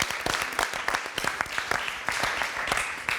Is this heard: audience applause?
yes